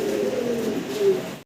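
Fancy pigeons in a cage coo steadily in a low, throaty murmur, close and fairly loud, continuing without pause before stopping abruptly.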